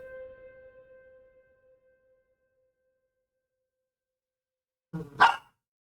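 A puppy gives a short double bark near the end, loud and close, after a fading electronic tone and a stretch of silence.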